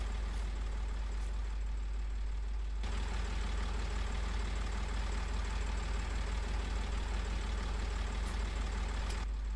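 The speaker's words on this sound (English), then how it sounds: "Now I need to use this tractor to put the trailer away with" Tractor engine running steadily on a back-yard farm, a continuous low droning rumble that stays loud and even throughout, with a slight shift in tone partway through and no voices.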